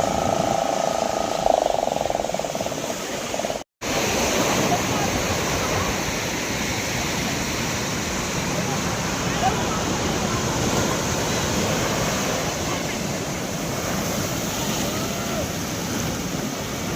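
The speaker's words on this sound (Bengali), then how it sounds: "এরপর উত্তাল সমুদ্র দেখতে লাগলাম" Rough sea at Puri beach, a continuous broad roar of surf and wind that holds steady throughout at a moderate level.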